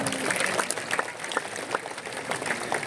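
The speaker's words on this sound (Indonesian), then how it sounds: "Tepuk tangan untuk para seniman kita." Applause for the artists at the opening night of the Bali Arts Festival, a broad crowd clapping steadily and densely throughout, moderately loud with no clear voices over it.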